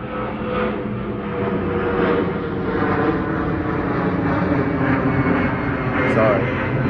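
An airplane flies overhead near an airport, making a loud, steady broadband roar that holds throughout with no break.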